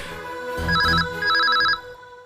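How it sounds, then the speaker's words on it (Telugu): A telephone rings down a line in a Telugu TV serial, two electronic ring bursts in a row heard close under a low background hum. "రింగ్ అవుతుంది, ఒక నిమిషం ఆగండి, మాట్లాడతారు"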